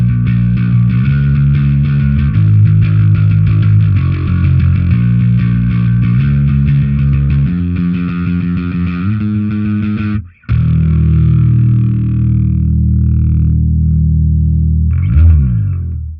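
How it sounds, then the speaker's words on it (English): Electric bass played through only the P-style pickup of a PJ setup, giving a loud, gritty riff with steady repeated notes, a brief cut-off near the middle, then sustained low notes ringing out, with no talking. "So that was just the P bass pickup on the PJ configuration"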